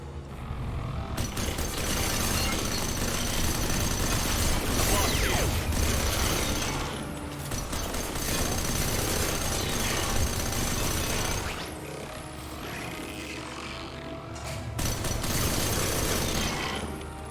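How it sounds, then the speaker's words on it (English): A heavy gun firing in a video game, a loud, dense, continuous roar of shots that runs almost the whole time with only brief dips. "Seems a good time as any to rack out the big gun, doesn't it?"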